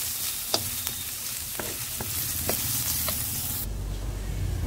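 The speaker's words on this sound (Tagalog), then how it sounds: "Maglagay na ako ng mantika sa kawali. Unahin natin ang garlic at ang onion na ginayat natin." Chopped garlic and onion hit hot oil in a kawali and sizzle steadily nearby, with a few light clicks of stirring and the hiss rising toward the end.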